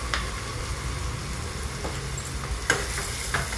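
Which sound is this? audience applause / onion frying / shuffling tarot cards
onion frying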